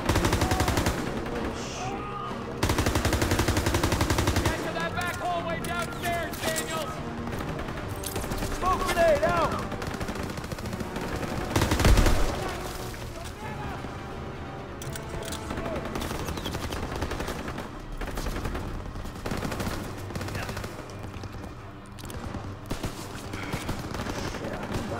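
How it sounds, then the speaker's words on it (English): Enemy gunfire in the World War II shooter game Call of Duty WWII: dense bursts of rifle and machine-gun shots crack throughout, layered under in-game noise with occasional louder blasts, while someone talks at times. "Packies keep shooting at me."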